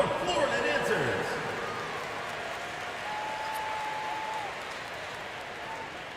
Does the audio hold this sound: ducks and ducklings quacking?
no